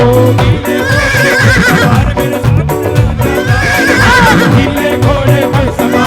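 Horse neighing sound effect woven into a Hindi devotional bhajan about Khatu Shyam riding a blue horse, layered under loud continuous music with rising whinny-like tones twice.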